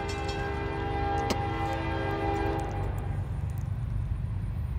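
Southbound freight train I-141 rolls past, its horn sounding for the first few seconds before giving way to a loud, steady rumble of wheels and railcars continuing alone to the end.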